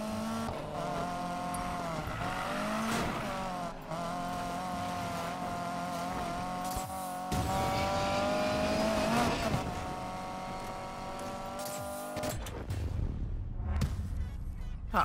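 Race cars roar through a race in the video game Need for Speed Payback, engines revving and shifting continuously with rising and falling pitch, tires squealing at moments, loud and close with no talk over them.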